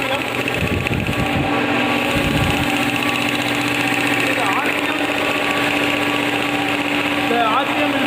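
An air compressor in a test setup runs steadily, a continuous mechanical drone with a pulsing, machine-like hum, with a few lower thumps early on.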